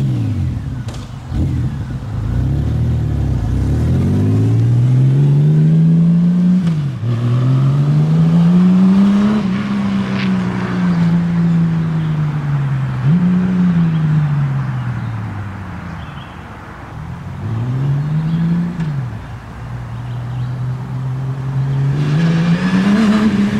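Honda Goldwing GL1800 motorcycle with its exhaust plugs removed, riding past repeatedly, engine note swelling and falling with gear changes and revs, loud and close for long stretches, no voices over it.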